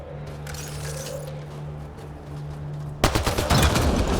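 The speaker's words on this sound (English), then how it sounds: "Shooting the device will destroy it." Gunfire in Mass Effect Andromeda aimed at a Ket device, erupting suddenly as a loud, rapid burst of close shots after a quiet stretch with a steady low hum.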